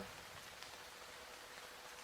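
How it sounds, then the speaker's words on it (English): Steady rain falls evenly, a soft, constant hiss of drops on a surface with no voices or other sounds over it. "feel the rain soak through my jacket"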